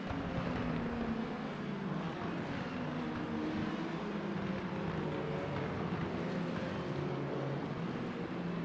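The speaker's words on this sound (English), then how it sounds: "Let's listen in to the cars coming through this turn." Racing cars sweep through a turn at Sebring in a racing video game, a dense, steady wash of engine drone with overlapping tones from several cars, moderately loud and continuous.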